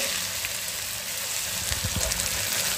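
Ginger, garlic and chili paste sautéing in a pan for a Marathi ambadi (roselle leaf) bhaji, a steady close sizzle with a few soft stirring knocks near the end.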